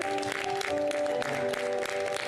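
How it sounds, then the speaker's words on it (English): An audience applauds at a public event for the Mission Paani water campaign, steady continuous clapping that stays loud and even throughout, with a sustained musical tone running underneath. "Big round of applause, ladies and gentlemen, for..."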